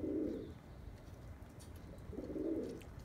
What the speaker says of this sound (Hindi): लेकिन बहुत ही प्यारा बेबी पिजन है, ये देखिए।